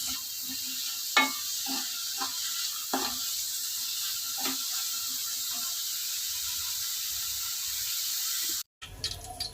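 Onions sizzle steadily in hot oil in a pan, frying until golden for a paneer biryani, with a few stirring scrapes and clinks over the continuous hiss, then a brief cut near the end.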